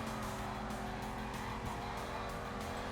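Race car engine in Need for Speed Carbon roaring steadily at high revs throughout, a loud continuous drone with faint tire noise, no voices.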